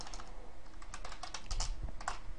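Fast, continuous clatter of typing on a computer keyboard set up for gaming, crisp keystrokes close and clear over a steady low background hum, with no speech.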